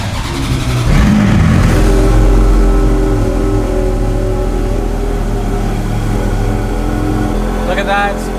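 A Scuderia supercar's engine cranks and fires up, then holds a loud, steady idle rumble for several seconds, heard close up with a voice talking over it.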